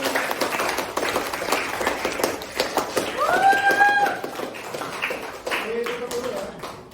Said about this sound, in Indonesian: Kita kasih aplaus yang meriah